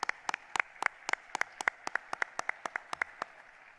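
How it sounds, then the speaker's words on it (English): Sparse, distinct claps at an annual police awards ceremony, a few hands beating an even quick rhythm close by with no voices. "So another round of applause, please."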